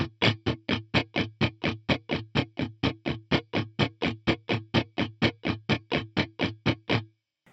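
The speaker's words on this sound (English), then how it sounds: "I'm going to play it slowed down without any accents." Funk guitar strumming a steady run of muted 16th-note strokes at a slowed tempo, even and unaccented, about four per second, close and alone, stopping cleanly after seven seconds.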